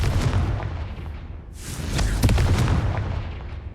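Confringo explosive spell cast in Hogwarts Legacy, a rumbling booming blast that swells, dips, then bursts again with crackling debris, loud and sustained, game audio with no one talking over it.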